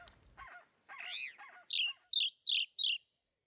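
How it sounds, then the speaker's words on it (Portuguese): Birds call at a feeder in the Caatinga scrub where a wood rail forages, first a few varied warbling notes and then four sharp, evenly spaced calls, fairly close and clear against a quiet background. "E olha ela aí, a saracura três potes."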